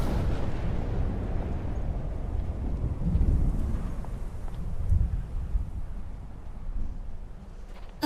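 Ion cannon blast in Skyrim striking an invisible wall, a loud, rumbling explosion with a deep roar that swells and trails off over several seconds, closing on a sharp crack.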